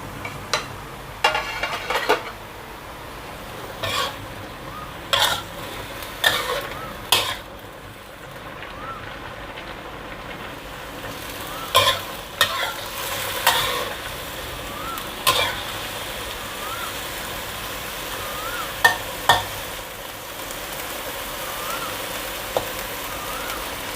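Mixed vegetables and marinated pork stir-frying in a pan, a steady low sizzle broken by repeated sharp scraping and clanking strokes of a utensil against the pan.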